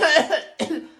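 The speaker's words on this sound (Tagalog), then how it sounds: "May ubo kasi ako" Two harsh coughs in quick succession, close and loud, with a short gap between them.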